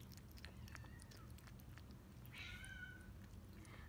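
Several stray outdoor cats meow and cry for food in short, plaintive calls over a low background rumble, fairly quiet and a little distant, with no talking.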